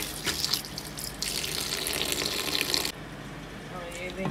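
Fresh coriander leaves being washed in water to rinse off soil: a steady, dense rush of running and splashing water with some sloshing, close and continuous, with a quieter stretch near the end.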